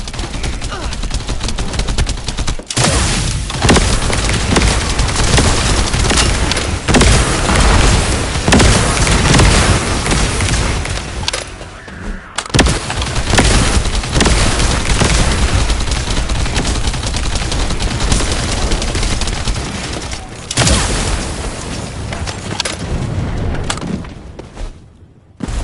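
Sustained gunfire and explosions from a fight to shoot down a resupplying Vulgus aircraft in The First Descendant, a loud, dense barrage of shots and booms running almost without pause, with brief lulls.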